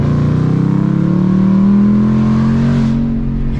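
A Saleen Mustang V8 revving hard up close, a loud throaty roar climbing steadily in pitch for a few seconds before the throttle eases off at the end, with nothing else audible.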